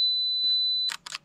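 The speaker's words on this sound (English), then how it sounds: "2 second self timer" A Fujifilm camera on a two-second self-timer gives one long steady electronic beep, then two quick mechanical shutter clicks close by.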